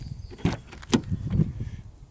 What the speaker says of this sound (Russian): у нас вот эти вот ручки издают, ну, такой вот скрип, да